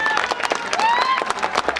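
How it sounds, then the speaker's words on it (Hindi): Audience clapping at a mushaira poetry gathering in Ludhiana, Punjab, brief scattered applause mixed with crowd noise and a faint tonal whistle or feedback. "जोरदार तालियां"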